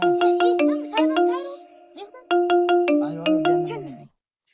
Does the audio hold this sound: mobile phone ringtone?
yes